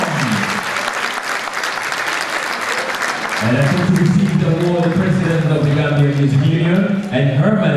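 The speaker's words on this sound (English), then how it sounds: "Round of applause, ladies and gentlemen." Audience applause fills an award ceremony at a music award party, dense and loud. Partway through, a voice starts talking over the continuing clapping.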